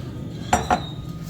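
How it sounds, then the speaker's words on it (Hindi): A utensil clinks twice against a metal pot as popcorn is stirred into hot toffee, two quick bright knocks over a quiet background hum. "हम ये पॉपकॉर्न डाल देंगे और इसे जल्दी जल्दी से मिक्स करेंगे"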